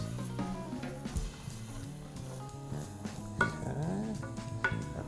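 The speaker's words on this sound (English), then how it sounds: "Just sort of gently toast your rice." Rice toasting in olive oil with shallot and garlic is stirred in a pan for saffron risotto, giving a steady soft sizzle with scraping utensil strokes and a couple of sharper clinks against the pot.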